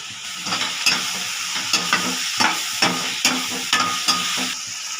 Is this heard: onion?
yes